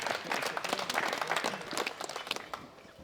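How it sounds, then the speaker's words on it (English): Audience applause at a world classic powerlifting championship for the winners, a dense, loud burst of many hands clapping that fades slightly toward the end. "Big round of applause for all these winners."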